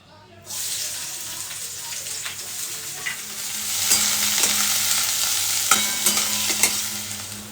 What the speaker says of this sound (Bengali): আগে পেঁয়াজটা ভেজে নেবো